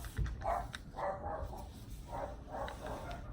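Several dogs bark in the distance, four or five repeated barks in an uneven rhythm over a low indoor background hum.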